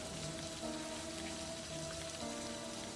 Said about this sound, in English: The raindrops fall on the paper, landing with soft patters.